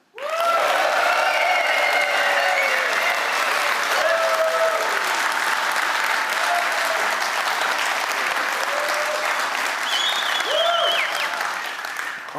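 Conference audience at MORE-IP 2025 bursting into loud, steady applause with some cheers and whoops, filling the room for about twelve seconds before fading slightly at the end.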